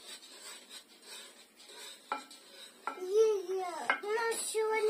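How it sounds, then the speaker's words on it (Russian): Pancake batter being stirred in a pot, with soft scraping and clinking of the spoon against the sides, under a voice and faint kitchen chatter. "Давай, хорошенечко мешай. Мешай, мешай, мешай, мешай,"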